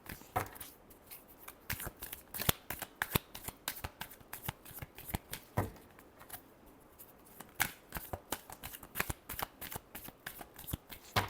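Tarot cards being shuffled by hand, a steady run of quiet crisp riffling snaps and flicks in irregular bursts, close and soft with no voice.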